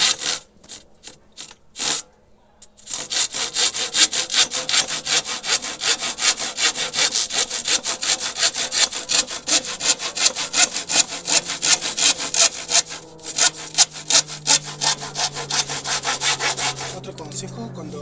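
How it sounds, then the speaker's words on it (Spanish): A handsaw cuts through wood in steady, rhythmic back-and-forth strokes, close and loud, after a few short marking strokes and a brief pause at the start. "Siempre cuando vamos a cortar lo vamos a marcar primero, haciendo para atrás, se marca y después ahí empezamos a cortar."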